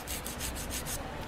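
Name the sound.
nail file shaping a raw fingernail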